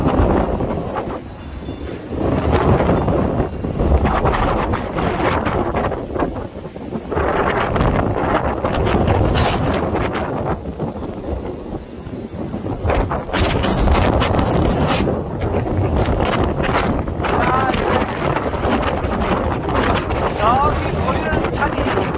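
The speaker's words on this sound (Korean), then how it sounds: "엄청 날려서 모래가 날려 집 벽에 부딪히는 겁니다." Strong wind in Sokcho blowing sand against a house wall, heard as loud, continuous gusting roar and buffeting with gritty rattling, while a voice talks over it.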